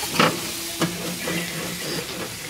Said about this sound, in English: if y'all don't know how to clean your grill after, just take your onion, put it on the end of a stick,